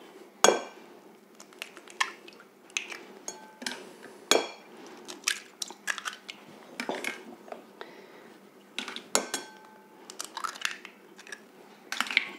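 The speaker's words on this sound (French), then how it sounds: "Dans mon saladier, je casse mes 3 œufs." Three eggs cracked into a salad bowl for a raclette tart filling: close, crisp taps and shell snaps with clinks against the bowl, irregular bursts separated by quiet gaps.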